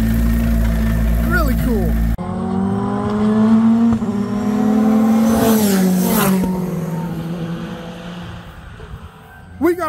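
Praga R1 race car with a motorcycle-like rear exhaust, its engine idling and revving at close range with rising and falling pitch, under continuous talk from people nearby.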